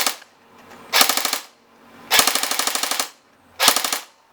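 A GSG MP5 RIS blowback airsoft replica fires three full-auto bursts, each a sharp, rapid rattle of clacking shots separated by short silent pauses.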